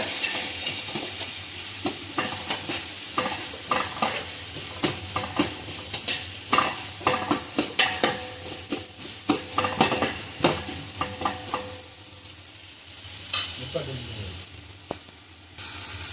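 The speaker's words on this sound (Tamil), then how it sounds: "இந்த வெங்காயம் பொன்னிறமா மாற மட்டும் நல்லா வதக்குங்க." Onions sauté for biryani in a pan, a soft sizzle under a run of rhythmic scraping and clattering stirring strokes that fades toward the end, while a voice talks at times.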